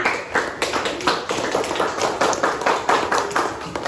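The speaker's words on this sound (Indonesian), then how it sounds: "Tepuk tangan untuk Fania." A class of children claps together for a classmate, a dense, steady burst of rapid overlapping hand claps in a room, loud and close, lasting several seconds without talk.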